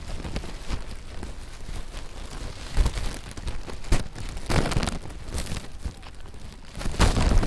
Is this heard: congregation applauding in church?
no